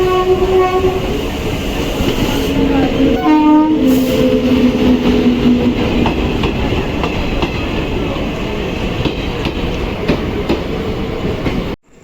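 A moving passenger train rumbles with steady rail clatter, its horn sounding in a few loud, sustained blasts near the start before the ride continues as a continuous rolling roar.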